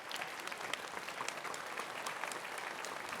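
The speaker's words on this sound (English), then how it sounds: "I would like everybody to give them a round of applause and say thank you." Audience applause at a patient advocacy event on rare neurological diseases, a steady dense clapping from a crowd, sustained at even strength throughout without voices.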